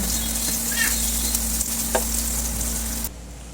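Chopped onion and garlic sautéing in hot oil in a pan (kawali) make a loud, steady sizzle with a few faint scrapes, cutting off abruptly near the end.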